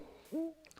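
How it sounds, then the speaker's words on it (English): A single short hoot from an American night owl comes through clearly against a quiet background, with a faint trailing tone. "American Night Owl"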